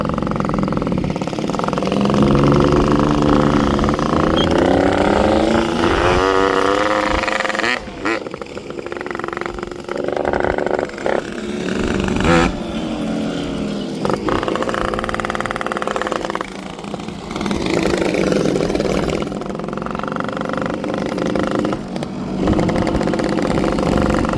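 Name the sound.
Volkswagen Polo engine with ported exhaust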